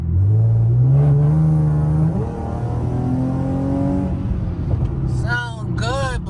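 A car fitted with a resonator exhaust accelerates along a road, its engine note climbing through rising harmonics and then settling into a steady drone, with another vehicle's pitch sweeping past near the end.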